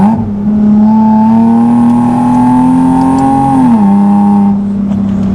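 A loud supercharged Nissan 370Z engine drones and climbs steadily in pitch while accelerating, then drops briefly as it shifts gear, heard close up from inside.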